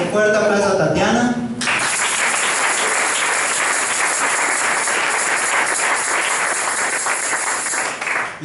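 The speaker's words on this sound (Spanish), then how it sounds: "Vamos a dar un fuerte aplauso a Tatiana." A church congregation at an evangelical Pentecostal service bursts into loud, steady applause after a short spoken line, the dense clapping continuing to the end.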